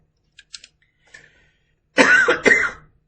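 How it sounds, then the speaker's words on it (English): A few faint clicks at first, then a pair of harsh, loud coughs close to the microphone from a person with a nagging post-illness cough, recorded in a quiet room during a tutorial. "so I've got a nagging cough"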